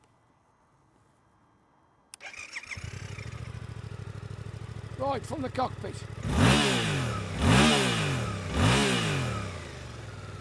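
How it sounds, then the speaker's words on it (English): A 2024 Suzuki GSX-8R motorcycle engine with an underslung exhaust cranks and fires up at close range, idles steadily, then revs sharply three times in a rhythmic pattern, with a brief spoken comment early on. "Shall we start it up and have a listen?"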